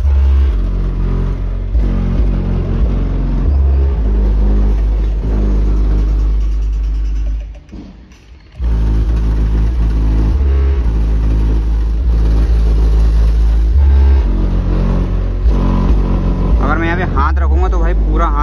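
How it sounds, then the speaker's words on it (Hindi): Car subwoofer driven by a CA 500 RMS mono amplifier pumps heavy, loud booming bass in a steady throbbing pattern that briefly drops out midway, with someone talking over it. "दूर से बेस कितनी आ रही है"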